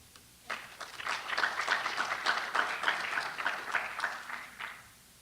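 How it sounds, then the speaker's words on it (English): Guests at a multicultural gala applaud the organizing committee, a steady round of clapping that swells in after a brief hush, holds for about four seconds, then tapers off to near quiet. "So a round of applause for them"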